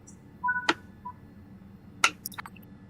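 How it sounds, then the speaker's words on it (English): Guard's door buzzer in a Train Sim World 6 cab on the Medway Valley line gives two sharp, clear dings about a second apart over a low steady cab hum. "Wait for the double ding on the buzzer from the guard"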